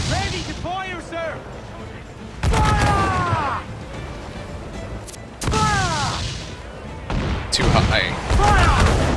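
Ship cannons in Assassin's Creed IV: Black Flag boom in several heavy volleys during a naval battle, each burst loud and crashing, while crew members shout orders over the roar of the sea.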